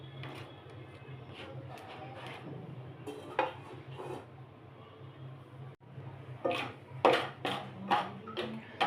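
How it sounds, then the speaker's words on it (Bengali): Lentil dumplings (bori) fry in a pan with a steady low sizzle, while a spatula clinks and scrapes against the metal in a few sharp strokes near the end. "বড়িটা ভেজে নিচ্ছি"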